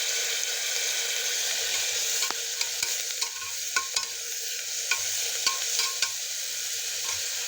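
Soaked prawns going into a hot pan for prawn rice with coriander, giving a steady sizzle that carries a few sharp clinks and stirring knocks over its length.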